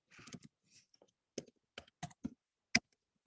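A few sparse clicks on a computer keyboard while a math expression is typed into a web search box, quiet and close, spaced-out single taps with gaps between them.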